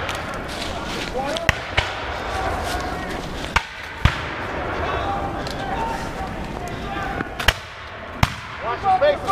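Several sharp, loud musket volleys crack out at irregular intervals at a battle reenactment of Guilford Courthouse, with shouted commands and crowd voices running continuously beneath.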